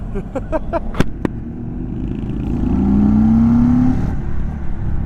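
A 2023 Indian Sport Chief motorcycle accelerating onto a freeway, a few sharp knocks followed by a rising engine note that swells and holds under heavy wind rush, heard from the rider's position.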